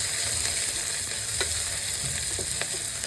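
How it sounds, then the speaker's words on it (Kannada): Curry leaves and green chillies frying in a pan for tomato bath, a steady close sizzle with a few light crackles and pops, no voices. "ಫ್ರೈ ಆಗ್ತಾಯಿದೆ."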